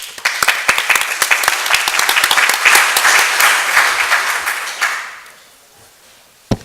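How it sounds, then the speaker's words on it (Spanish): Conference audience at an international arbitration congress applauding to welcome a speaker, dense clapping that builds and holds for about five seconds, then fades to near silence before a single sharp tap at the end. "Los recibimos, por favor, con fuertes palmas."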